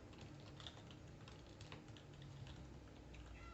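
Steady, quiet typing on a computer keyboard, continuous rapid key clicks with no voices.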